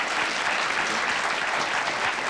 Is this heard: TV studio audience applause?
yes